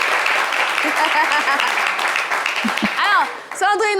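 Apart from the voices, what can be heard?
audience applause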